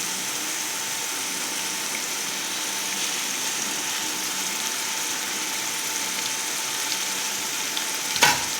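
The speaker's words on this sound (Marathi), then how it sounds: "हे तेल गरम झाल्यानंतर त्याच्यामध्ये आपण आलं आणि लसणाची पेस्ट घालूया" Ginger-garlic paste frying in hot oil gives a steady, even sizzle that carries throughout, with a brief louder crackle near the end.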